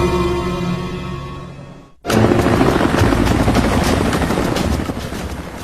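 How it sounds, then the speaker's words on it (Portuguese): A droning, whining engine tone cuts abruptly into a loud, continuous roar of a helicopter with a design flaw in flight, close and sustained. "Um helicóptero com uma falha de projeto."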